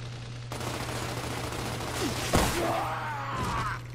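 Gunfire in the video game Gears of War, a dense continuous burst of automatic fire with whooshing and sweeping effects, moderately loud.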